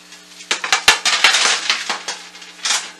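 Metal baking trays of bread cubes clatter and clink against oven racks as they are slid back into a home oven, a close burst of sharp metallic knocks and scrapes with no talking.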